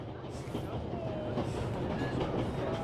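A train rolls along in the World War I game 11-11 Memories Retold, a steady low rumble with faint rhythmic clatter from the wheels, partly under murmured voices.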